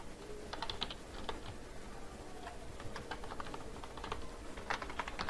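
Java code being typed on a computer keyboard, soft irregular clusters of key clicks over a quiet hiss, fairly faint and close, with no talking.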